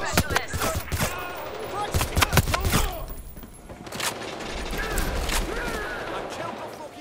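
Rapid bursts of video game gunfire, loud and clustered in the first three seconds, followed by scattered quieter shots and ambient game noise with a voice talking intermittently.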